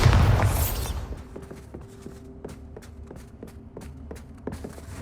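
A Bombarda blasting spell in Hogwarts Legacy goes off with a loud, booming burst that quickly fades, followed by a steady run of light footsteps.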